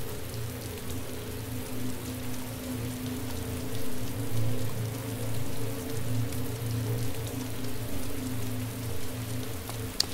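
Rain falls steadily in the survival game DayZ, a continuous close hiss of drops on surfaces with a low ambient rumble beneath it and no talk over it.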